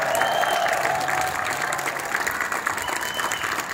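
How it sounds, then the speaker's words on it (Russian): Steady audience applause fills a concert or event hall, dense continuous clapping from a crowd at moderate loudness with no speech over it. "Крамер, пожалуйста, аплодисменты."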